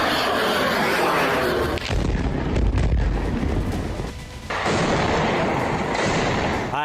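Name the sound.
missile strike explosions on a naval base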